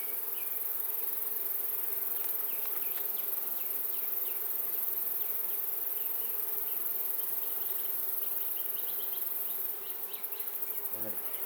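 Honey bees buzz steadily in an open beehive during a dandelion-season hive inspection, a dense continuous hum close by with faint clicks and brief fly-like pitch sweeps, no talk.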